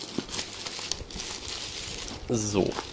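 Shrink-wrapped packaging of a T-Balancer BigNG USB fan controller crinkles and rustles as it is unwrapped, with a louder crackling burst near the end over a quiet room.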